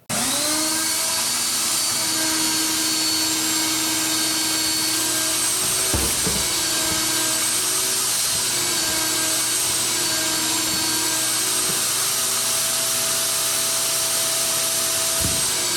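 A shop vacuum drones loudly and steadily, its motor whine holding constant throughout, with a couple of brief knocks partway through.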